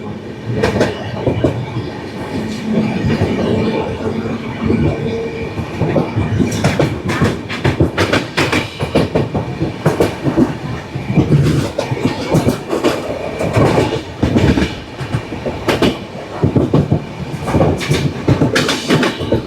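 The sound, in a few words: Kirandul passenger train running, Visakhapatnam to Araku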